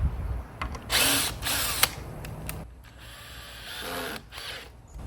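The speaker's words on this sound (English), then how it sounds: "I'm just gonna screw it into all sides of the obelisk right here" A power drill drives screws into the sides of a wooden garden obelisk, in several loud whirring bursts with short pauses between them and no talk.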